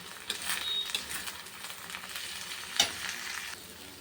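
Rice, cashews, raisins, cardamom, cinnamon, cloves, turmeric and salt fry in ghee in a kadai for pulao. The sizzle is continuous, with scraping stir strokes and a sharp clink near the end, and no talking.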